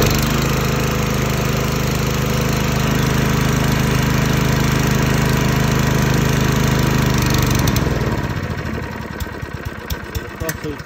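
A pull-started petrol blower engine for a bouncy castle runs loud and close, holding a steady drone for several seconds before slowing and sputtering down.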